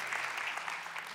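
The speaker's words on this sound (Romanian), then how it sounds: "Haideți să-i aplaudăm, să-i binecuvântăm." A church congregation claps steadily and evenly, a brief continuous wash of applause filling the hall at moderate volume.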